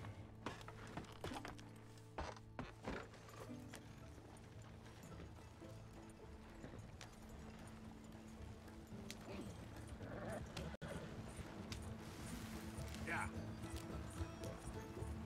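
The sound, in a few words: horse hoofbeats in video game Red Dead Redemption 2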